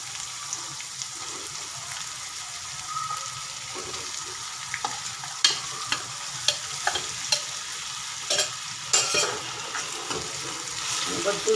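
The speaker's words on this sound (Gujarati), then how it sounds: "હવે આપણે આજે તુવેરના દાણા ક્રશ કરેલા હતા તે એડ કરી દઈશું અંદર" Crushed green pigeon peas stir in a frying pan for a kachori filling, giving a soft, steady sizzle broken by scattered scraping and clacking strokes of the spoon.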